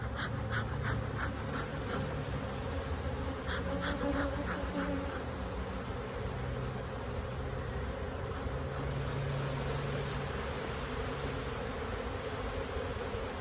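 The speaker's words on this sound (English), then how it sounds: "There's just a lot of bees up top." Honeybees buzz continuously around an open hive during an inspection, a faint, steady swarm hum with occasional sharper passes of individual bees close by.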